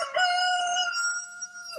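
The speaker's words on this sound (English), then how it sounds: "you can hear my rooster over there." A pet rooster crows once, loud and close, in a single drawn-out cock-a-doodle-doo that holds steady before breaking off, with no talk over it.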